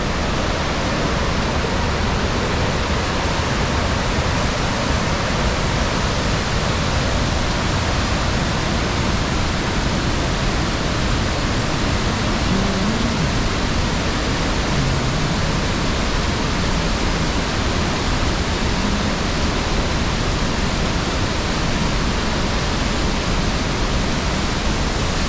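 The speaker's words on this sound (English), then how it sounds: "this waterfall is supposed to be second only to Niagara Falls" A large waterfall roars steadily in the woods, a loud, unbroken broadband rush of falling water with no voices over it.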